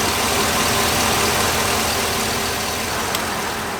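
Truck engine idling steadily after its filter has been removed, a continuous loud, even rumble with no break and no talk.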